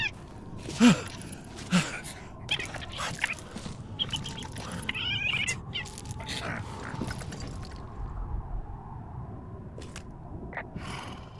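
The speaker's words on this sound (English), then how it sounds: "I'm sniffing around an old lookout and I got attacked by a raccoon." A raccoon attacks the player in the video game Firewatch, producing shrill animal squeals and chittering bursts over sharp scuffling hits, with a voice reacting in the background.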